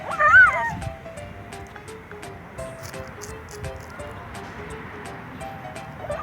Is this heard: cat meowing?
yes